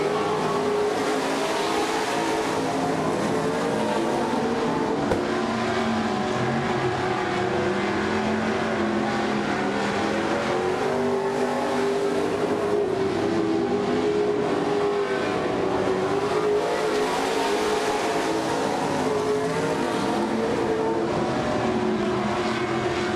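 Race cars circling a short dirt oval track during a late-lap feature, engines roaring continuously and loud as the pack rises and falls past, with a faint announcer voice beneath.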